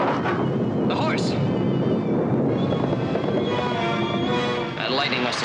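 Loud rumbling thunder rolls continuously, broad and heavy, with wind noise buffeting the microphone.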